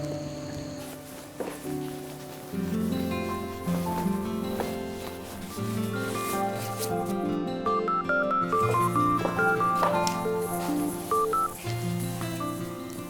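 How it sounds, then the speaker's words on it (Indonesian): A telephone is dialed to place a call in a drama series scene, a string of short DTMF keypad tones heard over a continuous layer of background music. "Telepon Andin dulu."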